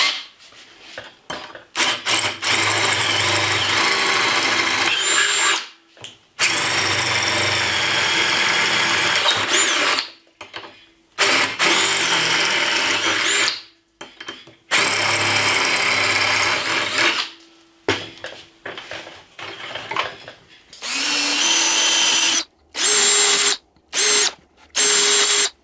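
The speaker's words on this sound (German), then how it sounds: "muss ich jetzt hier auch überall noch eben schnell ein Loch reinbohren" A power drill bores holes in wood for stainless M6 carriage bolts on a weatherproof outdoor box, running in several loud, close bursts of whirring and grinding separated by short silences.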